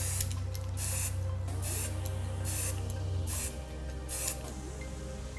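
Aerosol touch-up paint sprayed as a second coat on a decorative door product, with repeated short hissing bursts in a steady rhythm, close and fairly quiet, with no talking.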